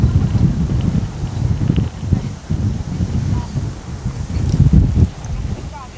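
Wind gusts across a microphone at an outdoor hilltop shrine, a rough, rumbling buffeting that stays steady and close with uneven surges, alone without talk.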